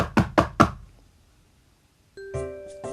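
Knocking on a door in the horror farming game Dream Farm: three loud, evenly spaced knocks, followed after a pause by a steady tonal musical drone from the game.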